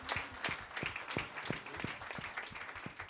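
Wedding guests at a church ceremony clap together in a steady, even rhythm of about three claps per second. The clapping sounds fairly faint and distant, with no voices over it.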